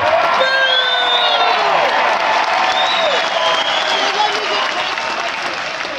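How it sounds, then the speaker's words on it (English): A huge metal concert crowd applauds and cheers loudly, with whoops and shouts sailing over sustained clapping, dense and continuous throughout. "give the security crowd a fucking round of applause"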